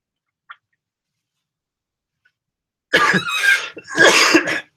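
Two harsh bursts of coughing close to the mic, one right after the other, following a long near-silence with a faint click early on.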